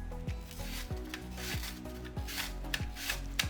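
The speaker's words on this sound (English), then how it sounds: "I use the thin setting to slice my onion" Onion slices rasping across a mandoline slicer on its thin setting, in an even back-and-forth rhythm of about five strokes, close and moderately quiet with no talking.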